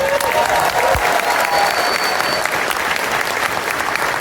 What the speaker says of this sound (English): huge round of applause for Branson, please.